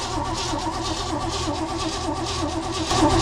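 A Chevrolet 210 Bel Air engine cranking over with no spark, a steady rhythmic churning of the starter at moderate loudness, brief and uninterrupted.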